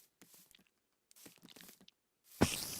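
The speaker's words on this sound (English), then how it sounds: "I hear a spider." A Minecraft spider makes faint, scattered scratchy clicks and rasps in the video game, then a sudden louder hissing burst near the end.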